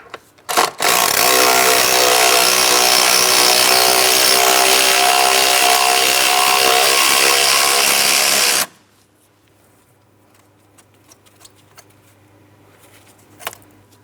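Power tool whirring steadily at close range for about eight seconds while a 10mm bolt comes out of a bracket on a 2003-2007 Cadillac CTS 3.6L V6 engine, then cutting off abruptly to near silence with a few faint clicks.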